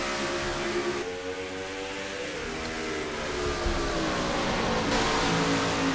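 Race car engines in the NASCAR Racing 2003 video game at Memphis, a steady droning roar with rising and shifting pitch as the field restarts single file, loud and continuous.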